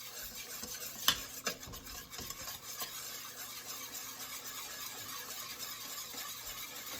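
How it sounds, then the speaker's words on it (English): A whisk scrapes and swirls through flour and melted butter forming a roux, with a soft continuous rubbing stir, one sharp metal clink near the start and a few lighter taps, quiet and close. "I'm going to whisk that into my butter. That's going to form my roux."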